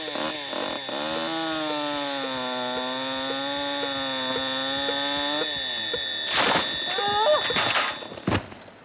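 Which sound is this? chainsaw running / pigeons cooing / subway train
chainsaw running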